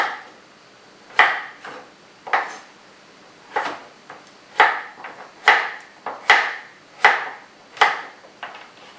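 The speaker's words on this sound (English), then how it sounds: "you're going to just slice it up into these pretty little rings" Steady knife strokes slicing a washed vegetable into thin rings on a cutting board, roughly a dozen crisp chopping taps in an uneven rhythm, close and clear with no talking.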